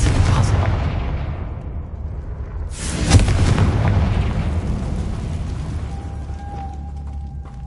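A Confringo spell blast in Hogwarts Legacy bursts loudly with a heavy boom, then rumbles and slowly fades, followed by a faint tonal hum, with no talking.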